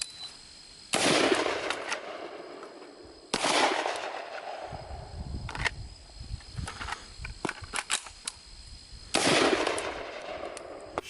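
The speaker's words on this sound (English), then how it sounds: "Shooting the P-07." A CZ P-07 pistol fires four sharp, loud shots spaced a few seconds apart, each cracking and then ringing out, with quieter rustling between them.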